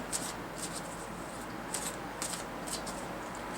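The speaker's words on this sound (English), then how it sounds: "I'm going to shuffle the cards a little bit more" Tarot cards are shuffled in a few quick riffling bursts, soft and close, over a faint steady background hiss.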